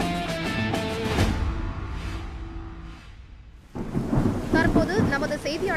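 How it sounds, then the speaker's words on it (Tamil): Heavy rain falls outside a prison during a news report, with rolling thunder rumbling through and a steady loud downpour that swells again after a brief lull. "அங்கு தொடர்ச்சியாக மழை பெய்து கொண்டிருக்கும் நிலையில்"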